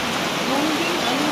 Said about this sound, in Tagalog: Biglang bumuhos yung ulan mga katardos.